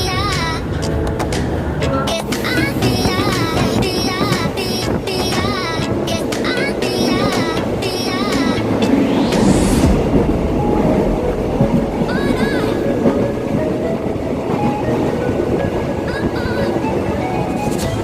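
A KRD 633 local diesel train running at night from Surabaya toward Lamongan rumbles and clatters steadily on the rails with a loud, continuous roar as it approaches Tandes station, while voices talk over it.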